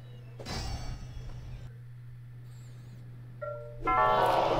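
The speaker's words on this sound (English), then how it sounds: "that's the sound of me failing a Senate mission" A short, dull musical sting for a failed Senate mission in Rome: Total War plays over a steady low hum, ending in a louder, brighter burst of game audio.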